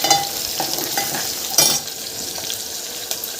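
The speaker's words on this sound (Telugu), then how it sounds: "సో ఇలా మీడియం ఫ్లేమ్లో పెట్టుకొని బ్రౌన్ కలర్ వచ్చే వరకు ఆనియన్స్ని వేపుకోవాలి" Onions and curry leaves fry in hot tempering oil over a medium flame for Andhra-style fenugreek-leaf dal. A continuous close sizzle runs throughout, broken by scraping stirs and a few louder spits.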